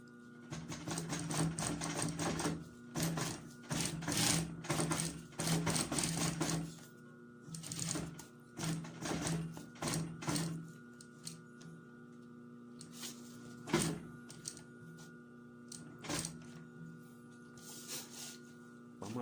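Sewing machine stitching along the edge of a purse pocket, running in repeated rhythmic bursts of rapid needle clatter with short pauses between runs, close and fairly quiet.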